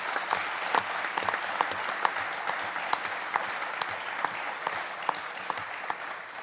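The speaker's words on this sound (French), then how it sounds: "il mérite un tonnerre d'applaudissements d'être présent aujourd'hui" A roomful of people applauds at a press conference for the GDP Vendôme athletics meeting, with sustained, even clapping and sharper individual claps standing out throughout.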